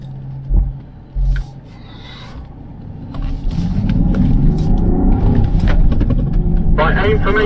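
Land Rover Defender 130 engine rumbling and building as it accelerates off-road, a steady low drone rising after a few thumps, with a person talking over it nearby.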